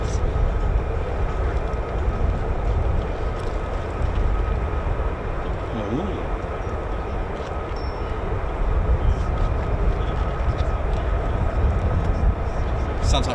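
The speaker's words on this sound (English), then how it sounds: "I can hear F-35s, more of them" F-35 Lightning fighter jets running their engines at RAF Lakenheath, a steady broadband roar heard from a distance that holds throughout, with a faint voice now and then.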